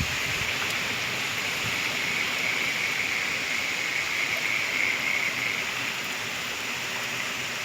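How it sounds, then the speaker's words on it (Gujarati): Heavy rain pours steadily as a dense, even hiss that stays loud throughout, with no voices and no breaks. "તમે જોઈ શકો છો હજુ પણ વરસાદ ચાલુ જ છે"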